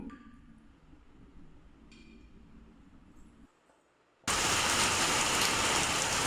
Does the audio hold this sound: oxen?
no